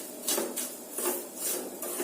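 A spoon scrapes around a pan of sugar and milk cooking for mitha doi, steady rhythmic strokes repeating about twice a second at moderate volume.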